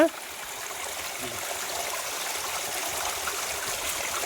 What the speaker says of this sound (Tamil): மரத்துல இருந்து தண்ணி வருதுங்க